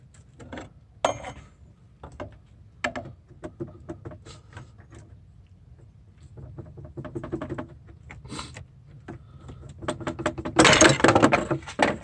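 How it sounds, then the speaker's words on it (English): Sharp metallic scrapes, ticks and clanks come from a pry bar wedged behind the crank pulley of a 2009 Subaru Impreza WRX, scattered close-up taps building to a dense rattling burst near the end. "next you're just gonna use a pry bar, kind of wedge it in between,"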